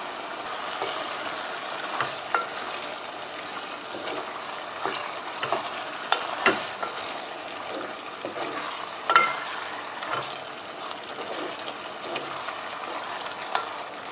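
Prawn masala for Kerala-style prawn biryani fries in a pan with a continuous close sizzle and scattered soft crackles and spatters.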